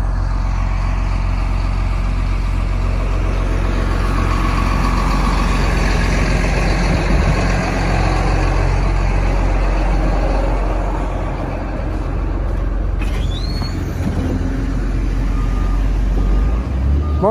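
Heavy trucks running during snow loading on a morning job site, a loud constant diesel rumble throughout, with a brief rising mechanical whine near the end and occasional faint speech in the background.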